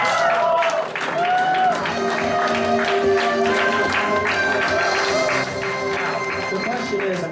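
Audience applause at a fan convention game show, a mid-sized crowd clapping steadily for several seconds, with bright music cues and some voices mixed in over the clapping.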